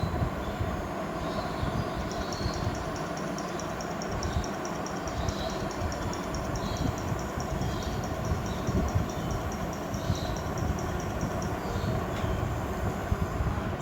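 A moving train rumbles steadily and evenly throughout, with a soft, rapid clicking of wheels on rails running through the middle stretch, part of an animated demonstration of train speed.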